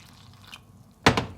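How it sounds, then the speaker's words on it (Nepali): Lukewarm water poured into flour for puri dough, a faint trickle and drip followed by a short louder splash and gurgle near the end, with no talking. "थोरै थोरै गर्दै पिठोसँग मिक्स गर्ने पानीलाई।"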